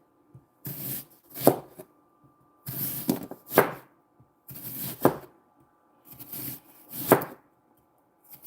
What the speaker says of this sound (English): If I cut any more onion away, I'm going to have to get another onion.